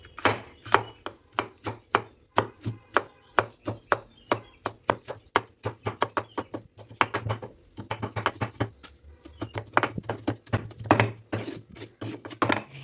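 A large capsicum chopped finely with a knife on a board, rapid close rhythmic knife strikes in bursts with short pauses, loud and clear with no talking.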